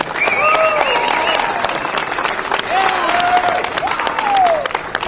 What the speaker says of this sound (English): big round of applause for both of these gentlemen.